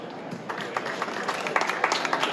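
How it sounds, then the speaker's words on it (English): Supporters applaud at a Q&A session with the Houston Dynamo general manager, a patter of moderate claps that builds and grows denser over a couple of seconds, heard from within the room. "Always a round of applause"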